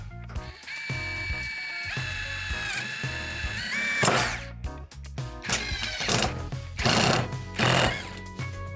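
Dnipro-M DTD-201BC ULTRA cordless impact driver forcing a 3.5 by 35 screw through metal into wood underneath, loud rattling impact bursts that stop and restart several times, heard close up with no talking.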